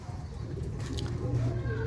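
Pigeons kept by a village pigeon fancier coo in low, throaty, rolling tones, a steady murmur of several birds close by.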